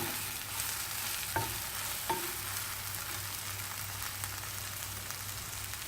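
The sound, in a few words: brinjal being stir-fried in a pan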